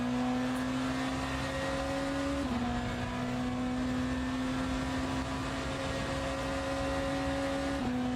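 Sustained engine note of a BMW hypercar lapping Fuji Speedway in the Le Mans Ultimate racing game, a steady droning tone with a brief dip in pitch midway, loud and continuous with no talk.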